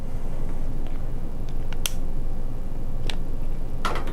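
Fuel with water in it burning after a second additive product, giving a few scattered sharp pops and crackles over a steady low rumble, sparse and spaced apart with no talking.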